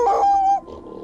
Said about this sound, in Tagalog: may naririnig akong tahol ng mga aso.